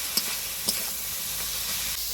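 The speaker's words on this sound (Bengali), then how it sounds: "এই যে চিকনি শাক আর সবজিগুলো তেলে যেন ফুটছে মনে হচ্ছে" Steady hissing sizzle of chikni greens and vegetables frying in mustard-fish oil, continuous and close, with a couple of faint clicks early on.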